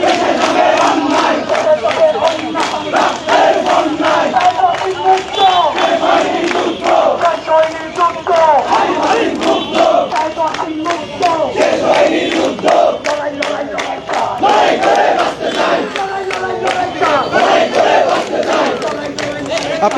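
Protesters at the Dhaka College main gate chant slogans at night in a loud, rhythmic call-and-response, a dense crowd of voices shouting continuously for the whole stretch.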